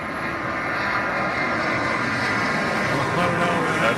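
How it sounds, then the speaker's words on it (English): An airplane flies low over a house in the Bankers Hill neighborhood, its loud, steady engine roar filling the whole stretch. "do I want airplanes skimming my house all day?"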